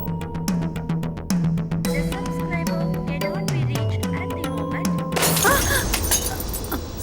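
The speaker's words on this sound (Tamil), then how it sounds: "போட்டோ கீழே விழுந்து உடைஞ்சிருச்சுமா" A framed photo falls and breaks indoors, giving a loud, bright shattering crash of glass late in the moment over a dense background of music and ambient sound.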